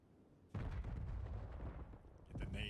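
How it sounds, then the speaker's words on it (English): Loud explosions in a Call of Duty League match on the Exposure map, a dense burst of booming blasts and crackling debris that erupts suddenly and rolls on for about two seconds, followed by another sharp burst, with commentator speech mixed underneath. "Explosions ringing out, but Heretics, they're the aggressors."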